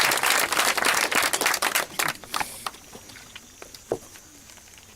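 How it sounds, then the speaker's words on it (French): A church congregation claps and cheers loudly in acclamation of the Lord's name, with dense applause that gradually thins into scattered claps and a few shouts. "On acclame très fort le nom du Seigneur Jésus-Christ."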